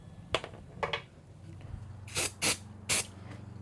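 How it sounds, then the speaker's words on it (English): Brake cleaner sprayed onto parts from a Harley front wheel in a garage, heard as three close, loud aerosol hisses in quick succession after a few fainter spurts and handling clicks. "Brake cleaner. Let's clean this guy up."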